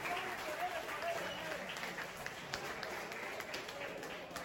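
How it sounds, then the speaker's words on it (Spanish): Crowd at a professional boxing event in Ciudad del Carmen, Campeche, applauds in a moderate wash of clapping mixed with crowd noise and faint voices, a few louder claps poking through. "un fuerte aplauso para estos dos grandes futbolistas"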